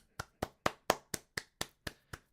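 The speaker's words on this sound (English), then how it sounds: "Huge round of applause for DaddyJDM." Nine crisp, evenly spaced hand claps ring out alone, a slow deliberate solo round of clapping at close range with no talk over it.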